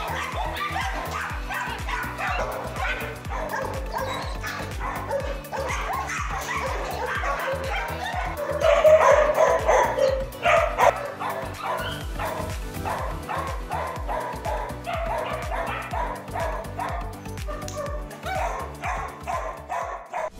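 Rescued dogs at a refuge base barking, yipping and whimpering continuously, many animals close by in a busy chorus with a louder burst midway and faint voices underneath.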